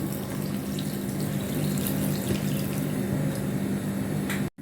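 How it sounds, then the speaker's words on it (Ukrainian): Cold boiled water pours into a flatbread dough mixture in a steady, continuous splashing stream that runs for several seconds and stops abruptly, close and moderately loud with no talking. "Тепер ось у нас водичка є холодна, е, кипячена. І ось сюди заливаємо."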